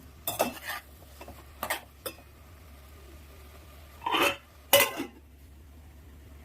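Broad bean (chikkudukaya) curry being stirred in a pan, a few separate bursts of metal spoon scraping and clinking against the pan with quiet pauses between them, close and moderately loud, no voices.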